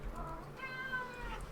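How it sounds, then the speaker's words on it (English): A pet cat gives a short, soft meow at close range, heard alone over a low steady background hum. "My kitty cat wants to see me."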